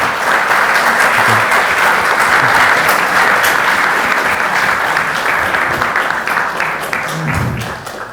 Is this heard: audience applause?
yes